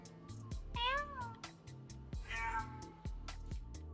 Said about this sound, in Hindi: रात में बिल्ली पागल हो गई।